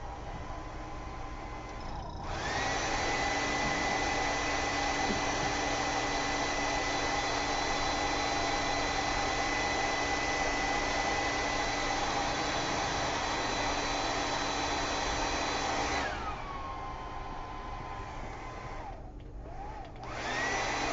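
A hair dryer blows close by to dry winter camouflage paint on a model, a loud steady whoosh with a constant motor whine that starts after two seconds and cuts back near the end.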